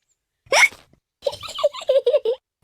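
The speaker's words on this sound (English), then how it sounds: "George's hiccups are spoiling the game" A cartoon piglet toddler hiccups once sharply, then a series of short voiced hiccup-like yelps follows close and clear, with no background noise.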